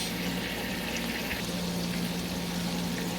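Liquid smoke is poured onto cooking food, a soft continuous liquid trickle under a steady low hum throughout.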